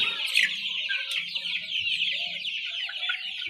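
A flock of desi chickens on a farm clucks and chatters continuously up close, with overlapping calls and soft low murmurs underneath.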